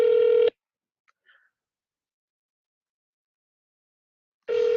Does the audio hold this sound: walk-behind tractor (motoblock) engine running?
no